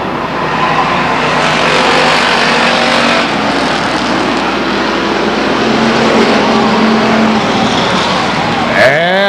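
Race cars roar at Stockton 99 Speedway during a heat race, a loud continuous wall of engine noise with cars circling close by and a brief pass or swell near the end.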